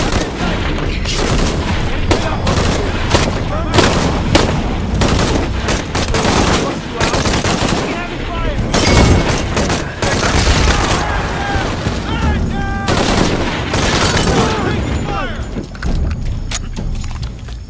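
Constant heavy gunfire in Shadow of the Tomb Raider during a fight with pillagers, with dense bursts of shots and booms layered over shouted voices, loud throughout.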